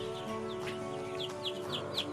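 Chickens cluck in short, repeated calls over a constant electrical hum, fairly close.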